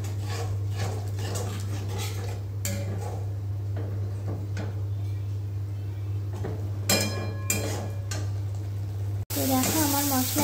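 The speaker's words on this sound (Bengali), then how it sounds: "এবারে আমি যে মশলাটা গুলে রেখেছিলাম সেটাকে অ্যাড করে দেব। সেটা দিয়ে একটু 2-3 মিনিট কষিয়ে নেব।" Spice paste for Bombay duck curry sizzles and crackles steadily in oil in a pan, with intermittent scraping and stirring bursts and a constant low hum underneath, close and fairly loud throughout.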